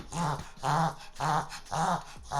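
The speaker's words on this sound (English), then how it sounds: "My dog is coughing up a hairball." A dog hacks and retches while coughing up a hairball, repeated rhythmic heaves, about five harsh coughing bursts close by, with no talking.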